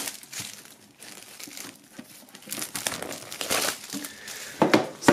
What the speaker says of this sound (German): So, einmal die Folie auf und dann schauen wir rein.